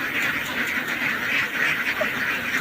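A large flock of domestic ducks quacks together in a dense, continuous chorus, loud and close with overlapping calls and no talking.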